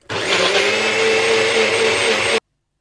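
A blender whirs loudly and steadily for about two seconds, blending a collagen smoothie, then cuts off abruptly.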